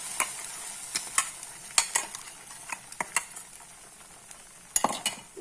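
Raw green tomato chutney poured into a spluttering mustard-seed tempering, giving a steady close sizzle broken by sharp spoon scrapes and clinks against the pan, with no talk.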